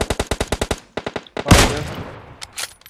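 Gunfire in the mobile battle game PUBG Mobile: a rapid burst of about eight sharp shots, a short pause, a few more cracks, then a loud blast with a trailing rumble and scattered later shots. No one speaks.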